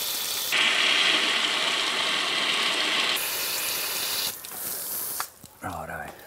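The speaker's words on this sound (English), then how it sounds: "Just get the hose in there until your water comes out." Garden hose water gushes steadily through the door drain holes of a 4WD, a loud continuous hiss and splash that shifts in tone partway through, then breaks up into choppier spurts near the end.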